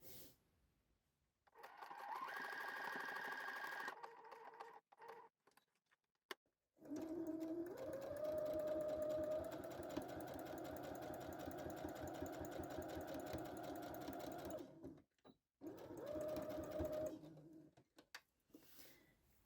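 Sewing machine running in long continuous stitching bursts as a bar tack is sewn across the end of a top-stitched French seamed side split in fabric, loud and close with short pauses between runs.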